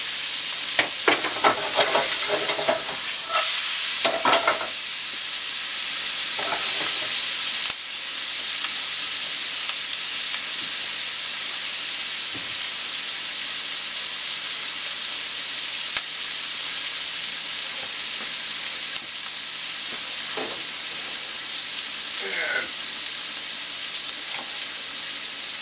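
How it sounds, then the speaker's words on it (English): Onion and garlic fry in a pan, a continuous even hiss of sizzling oil, close and steady, with a few clattering stirs and pan knocks early on, no talking. "And the onion goes into the pan"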